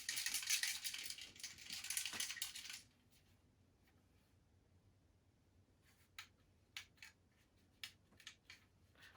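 An Xbox One controller charger set is shaken after a burst of handling noise, producing a short series of faint, sharp plastic rattles and clicks close to the microphone, with no talking.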